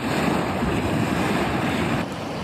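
A mud volcano erupting near a temple in Wandan, Pingtung, Taiwan, spewing mud from three vents up to nearly one storey high, gives a loud, steady roar like crashing surf that runs on without pause and eases slightly near the end.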